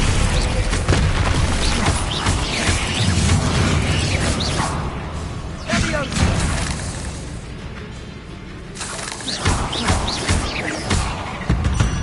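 The Bombarda spell in the video game Hogwarts Legacy sets off loud, dense explosive booms and crashing bursts, followed by a quieter rumbling stretch and another heavy blast.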